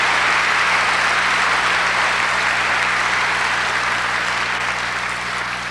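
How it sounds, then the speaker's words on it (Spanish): A church congregation gives dense, sustained applause that fills the whole stretch, loud and even, tapering slightly toward the end. "démosle un aplauso al Señor"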